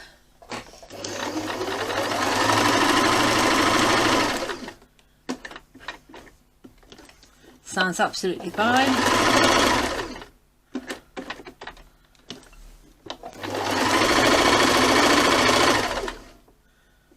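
A Singer 2250 sewing machine runs a wide straight stitch in three bursts of rapid, steady stitching, close and loud, with short pauses and a brief spoken remark between runs.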